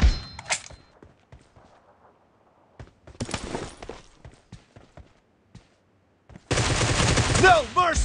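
Rapid gunfire bursts from a team-based video game match, with a short volley early, a denser burst mid-clip and a loud sustained barrage at the end, separated by quieter footsteps and thuds.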